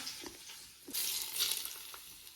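Hot oil is poured over fried onions on chicken dum biryani rice, setting off a steady hissing sizzle that swells after a quiet start and then holds at a moderate level.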